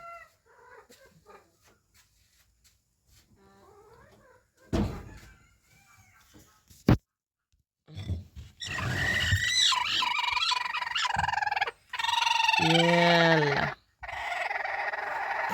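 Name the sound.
hen clucking near eggs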